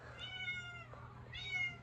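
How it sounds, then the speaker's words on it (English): A male house cat meowing indoors, two drawn-out plaintive meows close by with a quiet low hum between them and no talking. "There's my cat."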